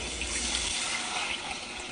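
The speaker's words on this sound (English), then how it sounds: "we're going to pour in about 2 cups of water, but I only have 1, so I'm just going to over pour it" Water poured from a container into a pot on the stove for making oatmeal, a close, continuous splashing gush with a steady rushing fill and no talking.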